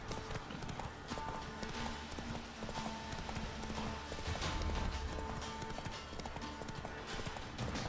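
A horse in the video game The Witcher 3 gallops, its hooves striking in a fast, steady clip-clop over a busy game soundscape.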